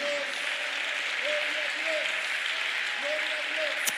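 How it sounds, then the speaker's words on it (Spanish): A church congregation gives a steady, sustained round of applause to the Lord, a dense even roar of clapping with a faint tonal voice or instrument drifting underneath. "Dele un aplauso al Señor a esta hora"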